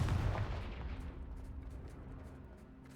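Confringo fire spell blast in the Hogwarts Legacy video game, a single deep booming explosion at the start that rumbles and decays over a few seconds.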